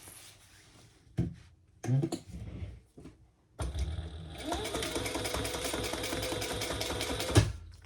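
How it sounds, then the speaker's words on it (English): A sewing machine stitches a seam on a fabric diaper backpack, starting after a few handling clicks and rustles and then running steadily for about four seconds with a fast, even mechanical chatter before stopping. "we're going to stitch down this one side"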